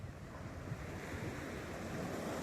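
Steady wash of sea waves breaking on a beach at Kuantan, a continuous even roar with wind buffeting the microphone and no voices.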